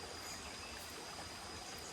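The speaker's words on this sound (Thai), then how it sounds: "เสียงน้ำไหล" Water from a forest stream flows steadily, a faint continuous rushing wash with no break, heard from a little distance with no voices.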